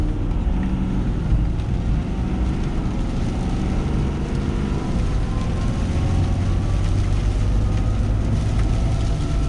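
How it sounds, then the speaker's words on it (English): A 2021 Ford F450 Platinum diesel pickup accelerates on the highway, heard from inside as a steady low engine rumble and road drone that builds gently, with no voices over it. "we're gonna jump on the highway and I'm gonna give it a little bit of juice"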